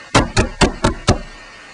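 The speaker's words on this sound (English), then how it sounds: "Then, one day, there came a knock at the door." Five firm, evenly spaced knocks on a wooden door, loud and close, then silence.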